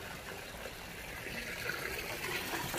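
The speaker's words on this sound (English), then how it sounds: "Now the end of this hose right here, you can see it's pumping. And that is water coming straight over from here." Water pumped out of a hose gushes steadily into a koi pond, a faint, continuous splashing rush that swells slightly toward the end, with no voices.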